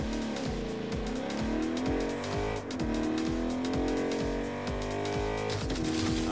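Car in the Agents of Mayhem video game revs hard through repeated gear changes while tires squeal, a loud, continuous high-powered engine roar with no talking.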